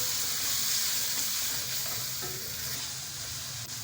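Chicken karahi stir-fried in a pan, giving a steady, close sizzle of frying with soft stirring and scraping running through the whole stretch.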